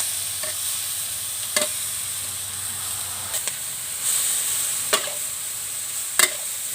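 Bean sprouts and garlic chives stir-fried in a pan over high heat, with a steady sizzling hiss and several sharp scrapes and clanks of the spatula spaced out across the stretch, close and fairly loud.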